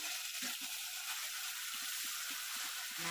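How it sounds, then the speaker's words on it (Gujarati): Chili garlic paste hits a hot pan for a Kathiyawadi spinach and potato curry with whole garlic cloves, giving a steady close sizzle with soft intermittent stirring clicks, no talking. "હવે આ મરચાંનો લસણનો પેસ્ટ નાખી"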